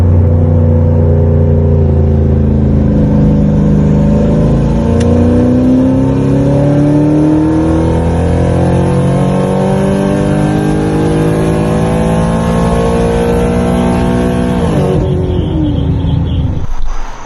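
An On3 twin turbo Mustang under way, its engine loud and close, climbing through long revving pulls with rising pitch before easing off near the end.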